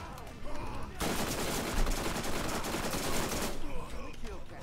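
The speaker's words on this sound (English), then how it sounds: "This SMG's real good." SMG fire in Borderlands, a continuous rapid burst of loud automatic shots lasting a few seconds, with voices talking just before and after the burst.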